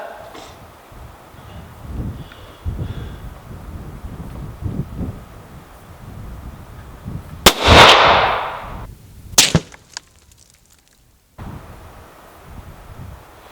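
Gunfire at a target during an outdoor shooting test, with a couple of sharp loud reports over steady wind noise on the microphone, one heavy blast then a second crack moments later.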